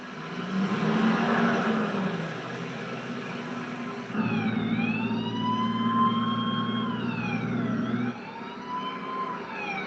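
An emergency siren wails over a rumbling engine, its pitch sweeping up and down in long cycles as the vehicle drives nearby.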